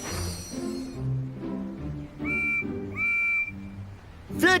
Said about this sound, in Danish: Så Percy satte stemplerne i sving og fløjtede så højt han